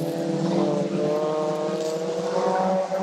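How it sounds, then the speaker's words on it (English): Stock car engines roar together as a race gets under way at the green flag, a loud, dense, continuous drone of many cars close by, holding steady throughout with no talk over it. "As the green flag signals the start of racing once again."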